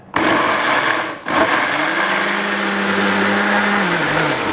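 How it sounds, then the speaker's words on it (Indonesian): An electric blender grinds shallots, garlic, turmeric, ginger and candlenuts with a little water, a loud steady motor whine that briefly dips after starting, then settles into a constant roar. "Sekarang kita blender ya bahan-bahannya."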